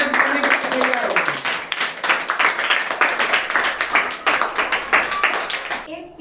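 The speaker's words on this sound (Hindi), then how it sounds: "जोरदार ताली बजाइए।" Class 8 students in a classroom clap loudly together for several seconds, a dense, fast, uneven patter of many hands with some voices mixed in, stopping abruptly at the end.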